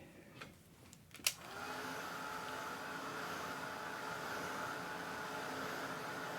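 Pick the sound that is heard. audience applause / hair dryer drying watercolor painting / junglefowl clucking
hair dryer drying watercolor painting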